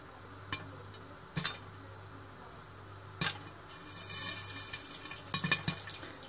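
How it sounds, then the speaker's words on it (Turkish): Sparse pops of popcorn kernels inside a pot, a handful of sharp cracks spaced irregularly, with a brief sizzle of steam partway through. "Evet, patlamaya başladı mısırlarımız."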